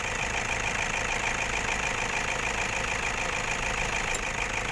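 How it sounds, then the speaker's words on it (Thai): A Toyota Vigo Champ 2500 diesel pickup engine, 120 hp and eight years in use, idles steadily with a dense, even clatter, close and constant throughout with no talk. "อันนี้เสียงเครื่องยนต์ดังมากหรือดังน้อยหรือเสียงแบบไหน"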